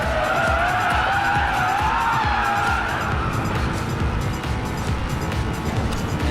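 An electric car held at maximum revs while drifting in the racing game Racing Master, a loud continuous whine with tires skidding and squealing underneath, steady throughout.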